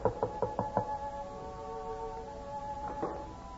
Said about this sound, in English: Who knocks at this hour?